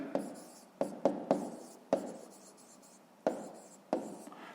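A pen scratches out a fifth-grade maths solution on paper in short, separate strokes with pauses between them, close and fairly quiet, with no talking.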